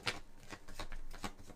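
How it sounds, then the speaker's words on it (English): Tarot cards being shuffled by hand, a quick run of soft riffling bursts repeating about every quarter second, close but fairly quiet, with no speech. "is my microphone messed up, or is it because I'm shuffling the cards?"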